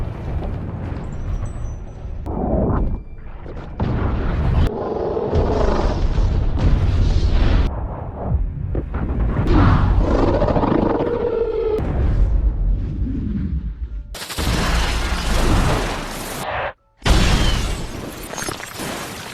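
A belt of grenades explodes in the sci-fi film Edge of Tomorrow, destroying the alien Omega. Loud, dense booming effects and score build up, then sharp broadband blasts burst out near the end with a brief gap between them.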